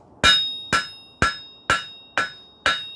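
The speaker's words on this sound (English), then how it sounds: "I'm using the flat side of the hammer, knocking some lumps down." Six evenly spaced, ringing metallic blows from the flat side of a hammer knocking lumps down on 5/8-inch round steel bar at an anvil, close and loud, with no talking.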